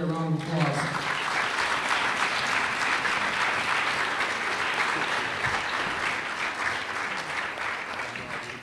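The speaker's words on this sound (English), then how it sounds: "So please give Mr. Goldsberry a round of applause" A crowd at a high school sports banquet breaks into sustained applause, thick and even for several seconds before gradually thinning toward the end, with faint voices mixed in.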